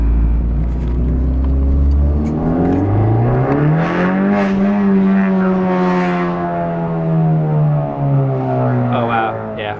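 A Honda Civic Type R with a Remus exhaust revs up close. The engine note climbs from a deep idle into a loud rising roar, holds there, then eases back down.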